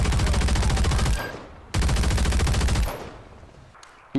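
Rapid automatic gunfire in the video game Warzone 3, two loud sustained bursts of fast shots, each ending with a fading ring-out.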